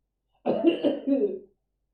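A voice imitates a cough: a single close, throaty burst lasting about a second, broken into a few rough pulses, with silence before and after.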